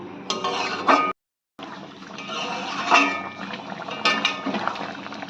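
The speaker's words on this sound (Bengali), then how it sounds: "লো টু মিডিয়াম আঁচে রেখে মাংসটাকে 5 মিনিট কষিয়ে নিতে হবে" Chicken korma meat simmering in a pot on low-medium heat, giving a steady bubbling, liquid churn with occasional scrapes and clinks of a utensil against the pan, broken by one short silent gap.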